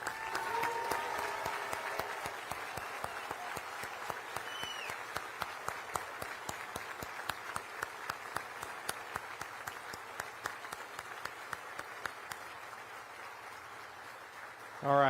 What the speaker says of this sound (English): stand up and let's give your families a round of applause